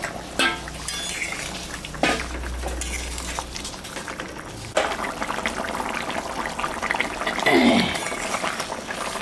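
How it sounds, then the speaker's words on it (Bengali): Fish goes into a simmering thin vegetable fish curry in a pot. Soft bubbling and stirring clatter continue close by, with a brief splash and scrape near the end. "এখন আমি মাছটা দিয়ে দিব"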